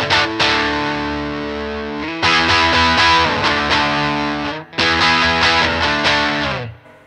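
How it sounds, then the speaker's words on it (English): A Gray Guitars Sustainiac Emperor electric guitar is switched to single-coil pickup sound and strums loud, distorted chords with effects in a few sustained bursts, close up, with no voices. "So you get a single coil sound."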